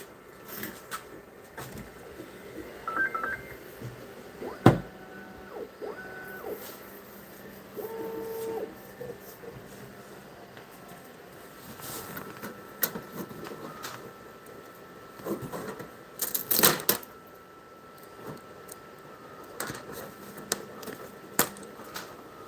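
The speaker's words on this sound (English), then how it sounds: "I couldn't let this keep printing" A Creality 3D printer printing an oil filter whirs and chirps with stepper-motor tones, sliding pitch sweeps and intermittent clicks and clatters, heard close up in a quiet room with no talk.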